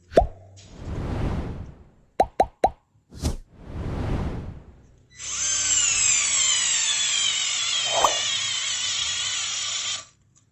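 Deli 3.6V cordless screwdriver set to maximum torque drives a screw into dry wood: a few short clicks and bursts, then a steady high motor whine for about five seconds before it cuts out, close and clear.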